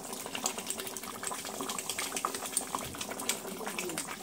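Fish curry bubbling at a steady boil in a pot on a home kitchen stove, a soft continuous simmer with small popping bubbles heard close up, no talking.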